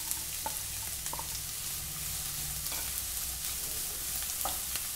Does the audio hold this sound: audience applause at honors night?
no